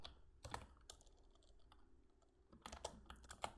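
Typing on a computer keyboard, a few faint scattered key clicks in short clusters over a quiet background hum.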